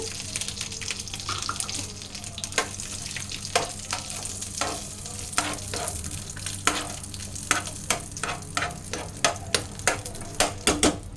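Steady sizzling of cashews frying in hot ghee, with repeated sharp clinks and scrapes of a spoon stirring at an irregular pace, close and fairly loud.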